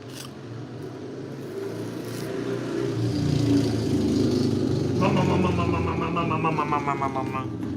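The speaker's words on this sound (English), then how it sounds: "Engines outside my window." Car engines run steadily outside a window, a sustained mid-pitched rumble that swells louder partway through, with a brief rising rev near the end.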